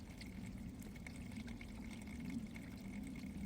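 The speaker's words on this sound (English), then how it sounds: "I keep listening to the dribbling sounds of the melting icicles" Melting icicles by a brook dribble steadily into a small pool of water, a faint, continuous trickle and patter heard up close in a quiet outdoor setting.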